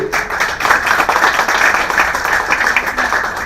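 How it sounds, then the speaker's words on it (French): An audience at a mobility project award ceremony claps, a dense, lively burst of hand claps that holds steady and close for the whole few seconds without any talk over it. "Alors, sous vos applaudissements, s'il vous plaît."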